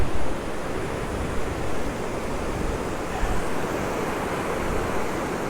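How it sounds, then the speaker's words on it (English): Ocean waves wash onto a shore at sunset in a steady, broad rush of surf, close and continuous, with some wind buffeting the microphone. "And now I'm going to wait for the wave to come in."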